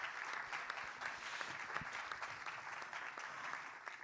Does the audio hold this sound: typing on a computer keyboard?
no